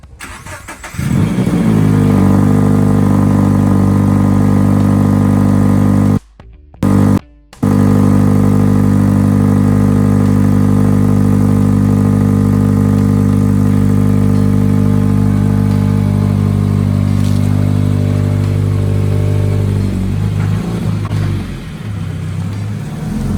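Subaru FRS with a muffler delete fires up in a garage and holds a loud, raspy, droning idle for a long stretch, cut by a couple of brief drops, with no talking.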